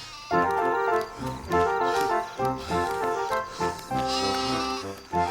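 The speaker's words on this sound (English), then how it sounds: "Get back with the other sheep" A cartoon sheep in an animated Bible series bleats repeatedly in long, wavering cries, close and loud, with short pauses between calls.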